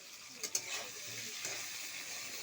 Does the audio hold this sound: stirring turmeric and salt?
yes